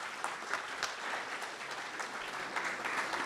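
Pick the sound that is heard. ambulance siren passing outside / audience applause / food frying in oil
audience applause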